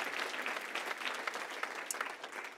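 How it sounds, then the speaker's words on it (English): Steady applause from an audience at a leadership awards ceremony, a dense even patter of clapping that carries on without a break and has no voices over it. "they deserve a round of applause for all the great work that they have done"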